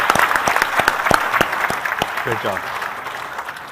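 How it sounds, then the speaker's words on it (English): An audience at a finale event bursts into applause, dense sharp claps that are loud at first and then fade, while a voice speaks briefly over them. "A round of applause for my friends over here."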